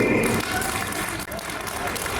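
Applause from the audience at a traders' meeting with a senior BJP leader, a short, dense burst of clapping under some voice and crowd noise.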